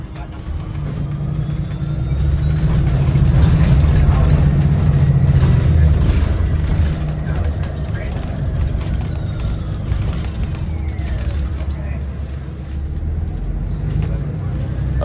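A brand-new Toronto TTC New Flyer XDE60 hybrid articulated bus on the move, heard from inside as a steady loud engine and road rumble with rising whine tones, and a voice talking over it partway through.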